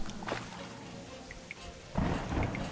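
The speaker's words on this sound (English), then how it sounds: "Sounds like the music and thunder in the game." Thunder rumbles through a stormy scene in the Terraria video game, a low roll that swells near the end over a steady bed of rain, with faint chiming game sounds scattered on top.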